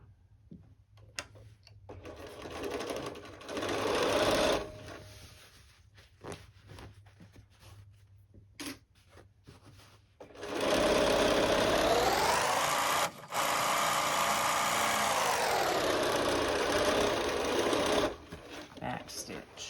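A sewing machine stitches a seam on a fabric lunch bag, whirring in short bursts and then a longer steady run with brief pauses between.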